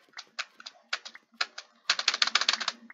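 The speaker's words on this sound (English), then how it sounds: "that was such a fast typing" Rapid computer keyboard typing during a Roblox Bedwars session: scattered key clicks at first, then a dense burst of fast keystrokes, close and fairly loud with no voices.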